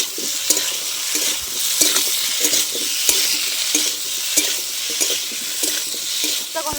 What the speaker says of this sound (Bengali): এবার খুব ভালো করে আমি একটু কষে নেব যাতে আদার কাঁচা গন্ধটা কেটে যায়।